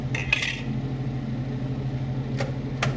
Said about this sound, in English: we're gonna add our eggs in there too